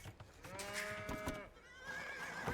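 Sheep bleating in the Age of Empires II: Dawn of the Dukes campaign, a couple of drawn-out game animal calls, clear and fairly loud, with no talk over them.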